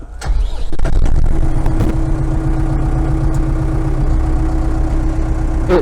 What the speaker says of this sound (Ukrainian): як двигун запускається?